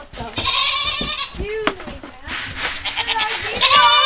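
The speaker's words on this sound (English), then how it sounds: "Let's go show you guys our goats" Goats bleat repeatedly, several calls overlapping at close range, with people talking in between.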